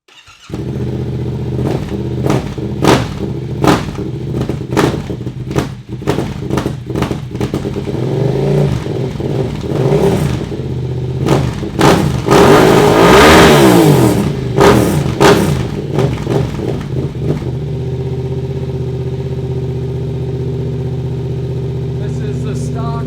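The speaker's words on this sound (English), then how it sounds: "first up is the exhaust and muffler with no dB killer or no" Yamaha Tenere 700 motorcycle with a full Dominator MX2 exhaust and no dB killer, loud close revving with repeated throttle blips rising to a sustained high rev, then settling back to a steady idle.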